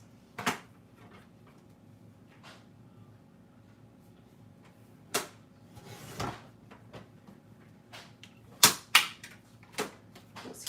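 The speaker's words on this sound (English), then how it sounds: "Trim a little bit of this." Paper being trimmed for a 6x8 scrapbook album, with a few separate sharp close cutting and sliding sounds spaced across quiet pauses.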